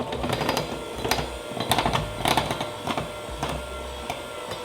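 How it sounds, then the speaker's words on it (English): Hand mixer on low speed beating vegan eggnog cake batter with sugar, a steady close whirring drone with rhythmic rattling and clicking bursts as the beaters work through the mix, no talk. "we're gonna mix this with the hand mixer"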